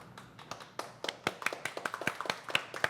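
People clap their hands in a loose, uneven patter of sharp individual claps, close and fairly quiet, speeding into a quicker run toward the end.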